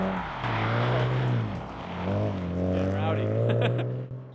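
Drift cars at an East Coast drift school whine and rev loudly in sustained rising and falling engine tones, with tire screech in the mix and someone talking over them.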